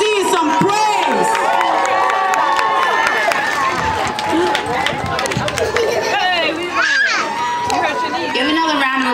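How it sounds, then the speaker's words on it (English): A crowd at a Summer Jam 2014 gathering cheers loudly and shouts with applause. Voices whoop and call out over a continuous wash of clapping and babble. "Let's give our MC some praise."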